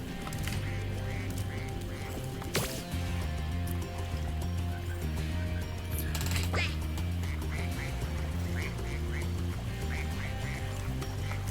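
A mama duck in the video game Spyro 2 Ripto's Rage Reignited quacks again and again in a steady, even rhythm over soft trickling water and gentle game background sounds.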